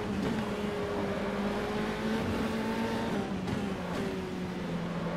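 Racing car engine in a modded Monaco street-circuit video game race, loud and continuous with steady tonal whine and gear-shift pitch changes as it accelerates, no talk.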